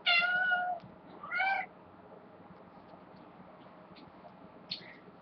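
A rescued pet cat meows twice close by, a long harmonic call followed by a shorter one, then only faint room noise with a brief high tick near the end.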